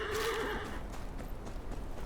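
A horse whinnies loudly once in the Game of Thrones: Kingsroad video game, a rising neigh that fades into soft, scattered hoof clops over a low rumble.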